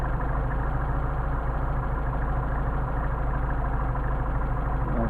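Mercedes 190SL engine fitted with Solex carburetors idling steadily, a close, even mechanical drone with a constant low rumble and no voices.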